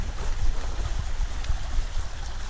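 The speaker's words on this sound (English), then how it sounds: "hearing rapids, but it kind of echoes through the woods" River rapids rushing through woods, a steady broadband wash of water with low rumbling churn, constant and moderately loud, slightly echoey, with no voices.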